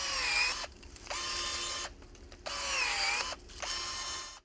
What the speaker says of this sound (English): I'm curious if the battery-powered branch cutter can still effortlessly cut through these trunks or branches.